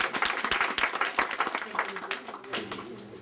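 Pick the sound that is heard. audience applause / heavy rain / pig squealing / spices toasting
audience applause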